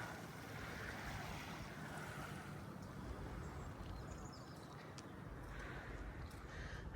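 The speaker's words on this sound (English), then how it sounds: "There's just the waves coming in." Ocean waves rolling onto a shore near Palma, Mallorca, heard as a soft, continuous wash of surf with low rumble and wind noise on the microphone, quiet and distant, with no talking.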